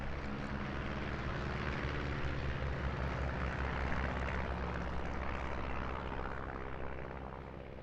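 A de Havilland Gipsy Major-engined biplane, a touring and aerobatic training aircraft, at an airshow: a loud, steady propeller-engine drone held throughout and easing slightly at the end.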